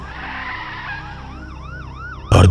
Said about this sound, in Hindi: पीछे से पुलिस की गाड़ी सायरन बजाते हुए आती है